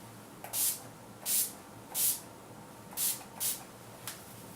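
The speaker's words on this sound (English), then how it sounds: "I'm just going to finish off my foundation by spraying this one more time" Five short hissing spritzes from a spray bottle misting a face over powder foundation, evenly spaced about a second apart, close and fairly soft, with a faint sixth puff at the end.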